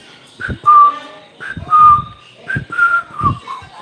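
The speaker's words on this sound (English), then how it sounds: "all I have to do is whistle outside that little theme, and they come barking" A person whistles a short melodic theme in four clear phrases, each a bright sustained note with quick slides, close and loud, with soft breathy sounds between phrases.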